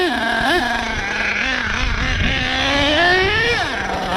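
An HPI Savage XL K5.9 nitro RC truck running on 30% nitro fuel, its small engine screaming high and buzzy, rising and falling in pitch as it revs and races nearby.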